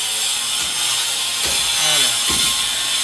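A wall cutter scores grooves into the wall of a newly built house, giving a steady abrasive grinding hiss throughout with brief rasping surges as the blade bites, close and continuous with no talk.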